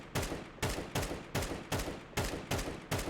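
Rifle fire in Counter-Strike 2, eight sharp gunshots in quick evenly spaced succession, each a crisp crack with a short decaying tail, fairly faint, no talk.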